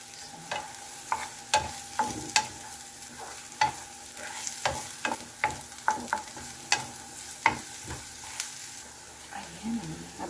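Sautéing with very little oil in a pan holding egg and ham: a steady sizzle broken by regular scraping and stirring strokes of a utensil against the pan, close and fairly even throughout.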